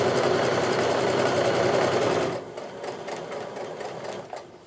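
A sewing machine stitches a quilt seam in a loud, steady run that stops abruptly halfway, leaving softer intermittent mechanical clicks and hum afterward.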